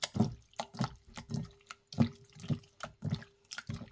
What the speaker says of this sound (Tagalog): hugasan natin yung ating liver